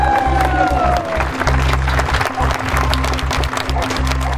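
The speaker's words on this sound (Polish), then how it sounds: "Brawa dla niej!" Crowd at an outdoor charity run for cancer patients in Lower Silesia applauding and cheering, a loud continuous clatter of clapping mixed with shouts, with a voice over a loudspeaker and music underneath.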